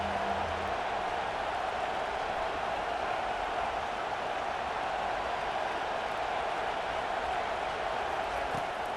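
Stadium crowd roaring in the college football video game College Football 25, a steady, dense wash of cheering noise that holds constant without breaks.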